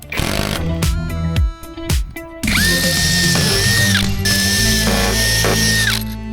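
Power drill driving lag screw bolts into wood while building a tiny house on a trailer: loud, close motor whine that revs in short bursts, then a long steady run with pitch dips, no talking.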